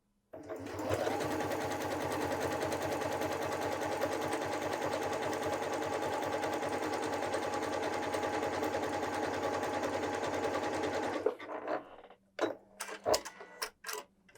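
A Janome 6700P sewing machine stitches onto stabilizer in one long continuous run of fast, even mechanical chatter, close and steady for about eleven seconds, then stops and leaves a few clicks and handling knocks.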